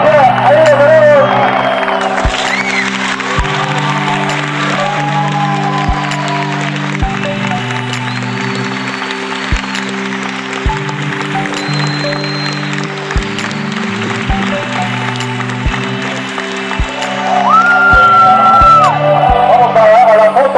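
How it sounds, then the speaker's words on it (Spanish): At a rally award ceremony, an audience applauds and cheers in the background while music with a steady beat plays over it, and a whoop rises near the end. "El aplauso enorme, con dos aplausos, Johnny Vitracia, ahí lo tenemos."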